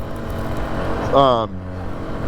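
A 2003 Polaris Sportsman 700 quad's engine runs at a steady idle-like drone, fairly quiet and close, while someone talks over it briefly.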